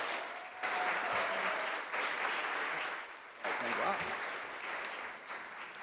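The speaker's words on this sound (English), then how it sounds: "So can I have a round of applause for Carrie?" Luncheon audience applauding for Carrie, a broad steady wash of clapping from a large crowd that swells in waves and fades, with a few voices mixed in.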